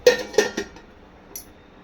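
A plate clinks and clatters as it is lifted from a stove after cooking a dosa, a few sharp close metallic knocks followed by a faint later chink.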